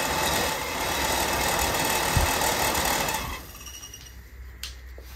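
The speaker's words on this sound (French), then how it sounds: "Le moteur marche nickel" A restored car engine runs with a steady mechanical drone and rattle for about three seconds, then cuts out, leaving quiet room noise with a faint click.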